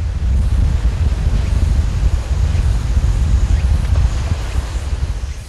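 Sea waves and wind along a rocky coast, a loud, steady low roar of wind buffeting with surf washing underneath, continuous throughout.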